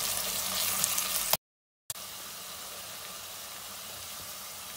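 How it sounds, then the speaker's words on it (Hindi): Onion and garlic paste fries in a pan with a steady, close hiss and sizzle, briefly cut to silence before the frying noise resumes slightly quieter. "ये जो रिमेनिंग लहसुन था उसका पेस्ट वो डाल देते हैं और इसको 1-2 मिनट मज़ीद भूनते हैं।"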